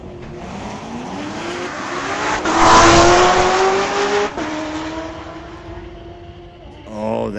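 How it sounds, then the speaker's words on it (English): A Corvette makes a street-legal drag racing pass at a raceway, its engine rising loud and steady through the gears with a passing surge and tire noise, then fading into the distance. "Oh, that Corvette sounds good."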